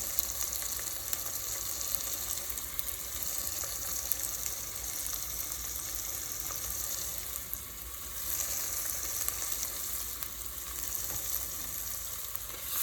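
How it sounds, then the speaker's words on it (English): Tomato cooking in a pan for an eggplant curry gives off a steady, moderately loud frying sizzle that runs unbroken and alone from start to finish. "while the tomato is cooking"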